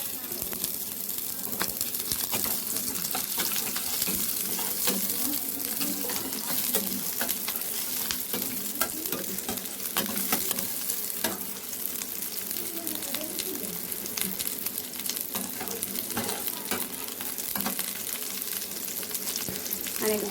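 Onions frying in a pan give a steady, close sizzle with scattered crackles and spits that run unbroken throughout, with no voices heard.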